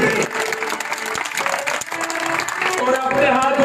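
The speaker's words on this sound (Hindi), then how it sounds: "एक बार पुनः ताली बजाइए एक बार इनके लिए" Crowd applause at a live Ram Leela performance, steady clapping mixed with chatter and background music throughout the short stretch.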